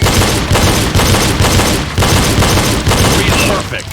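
Rapid pistol shots fired in double taps at targets during a reload drill, a dense, loud string of cracks running almost continuously with only brief gaps, close to the microphone.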